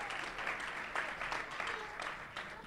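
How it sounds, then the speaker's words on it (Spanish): Quiet, somewhat distant applause from spectators at a line-follower robot racing competition, a soft continuous patter of clapping with slight swells. "Y ahí lo tenemos, un aplauso."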